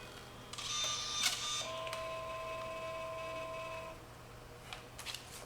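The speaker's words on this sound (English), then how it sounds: "It's printing." A photo printer prints passport photographs with short whirring feed motions, a few electronic tones and clicks, then a quieter steady mechanical hum, close and faint with no talk.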